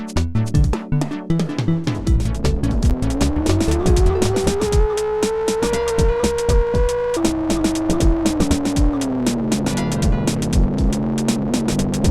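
Engine drone in the Atari Jaguar first-person driving game Club Drive, a loud synthetic tone that rises and holds steady, then drops, backed by constant electronic music and rapid clicking beats.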